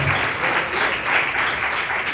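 A church congregation clapping together as an offering to the Lord during a Bible study, sustained dense rhythmic applause filling the room close and loud.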